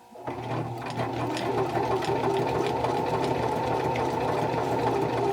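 Sewing machine stitching a paper junk journal pocket insert, a steady continuous whirring hum with a rhythmic mechanical clatter, close and loud, running without a break and with no talk.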